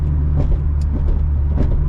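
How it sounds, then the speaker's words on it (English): A turbocharged Chevrolet Cobalt with the LNF engine and a fenderwell intake runs with a steady, loud low rumble and faint turbo whoosh flutters from the bypass valve, close up with no talk. "you can hear a little turbo noise"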